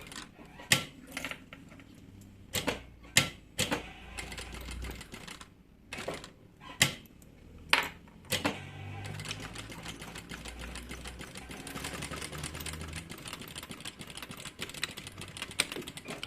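A sewing machine stitching a changing mat that converts into a bag, using stitch number 4 with matching bobbin thread. It gives several short, sharp bursts, then settles into a steady, continuous whirring run of stitches.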